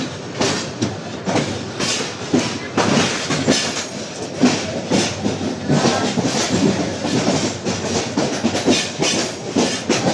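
A train rolls through a crowded station platform, loud and near, with a steady rumble and rhythmic clickety-clack of wheels over rail joints and occasional metallic squeals.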